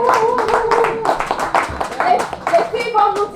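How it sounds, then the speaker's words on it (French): A short burst of clapping from a church retreat congregation, brisk and close, mixed with voices, including children, talking over it. "Une main d'applaudissement s'il vous plaît."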